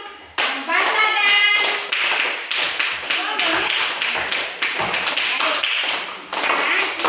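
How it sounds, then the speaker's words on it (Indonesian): A classroom of pupils clapping hands together in a lesson, a series of loud, near, rhythmic claps in bursts with short gaps, overlapping a few voices. "jadi kita tepuk tangan dulu"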